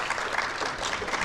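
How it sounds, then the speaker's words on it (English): Brief burst of steady audience clapping for a panel at a discussion event, a dense patter of many hands with no pauses. "Let's give them a round of applause for joining us today."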